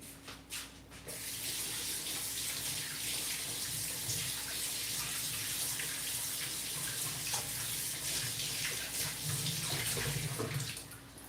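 Steady, close stream of running tap water as oily, fat-coated hands are rinsed without soap, a continuous splashing rush that briefly falters at the start and end.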